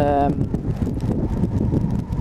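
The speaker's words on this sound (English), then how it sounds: "It is windy here." Steady low wind rumble buffets the microphone throughout, with a brief tonal sound at the very start.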